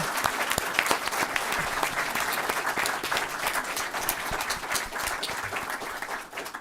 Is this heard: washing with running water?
no